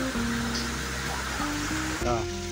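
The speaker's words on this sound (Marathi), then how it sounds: "हा वरना येणारा पाणी आहे डोंगरातून आणि खाली डायरेक्ट पाणी जाते" Water from the mountain pours down into a deep valley below. Its constant broad rush sits under a person talking nearby.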